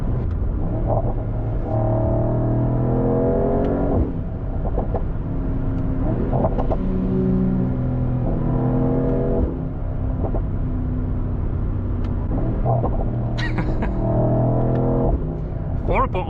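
A car with rear wheel spin warming its tires, engine droning and surging in repeated pulses under a steady rumble, with a voice talking over it.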